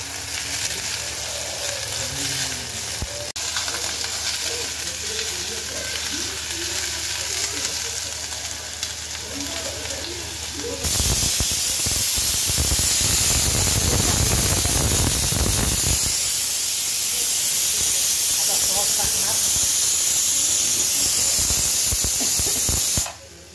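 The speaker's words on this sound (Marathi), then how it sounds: "तेलामध्ये तळून घ्यायच्या थोड्या परतून घ्यायच्या" Cut bell pepper fries in hot oil for paneer chilli, a loud steady sizzle and hiss that starts abruptly partway through and continues close up with no talk.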